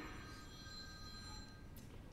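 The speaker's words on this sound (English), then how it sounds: "We'll wait for the telephone to quit ringing." A telephone rings faintly in a debate hall during a 2012 congressional debate, its thin electronic tone sitting low beneath steady room noise, with no voices heard.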